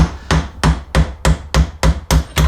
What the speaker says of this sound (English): So I'm going to try and just tap this out with the socket